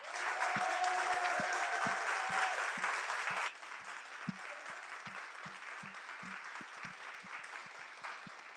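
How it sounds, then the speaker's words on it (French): Students at a demo day event applaud with sustained, dense clapping that is fairly faint and distant. The applause thins to scattered individual claps partway through. "On va vous applaudir bien fort avant que vous puissiez monter sur scène."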